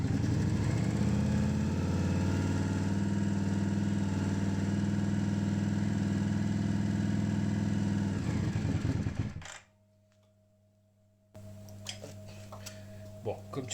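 A motorcycle engine, just fitted with a replacement stator and fresh oil, fires up and idles with a steady close throb, cuts off abruptly near the end, then light ticking and handling noises follow.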